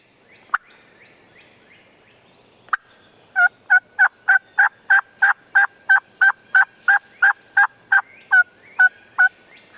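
A wild turkey gobbles in answer to hunting calls, two lone sharp notes followed by a long, loud run of rapid, evenly spaced calls, with no talk over them.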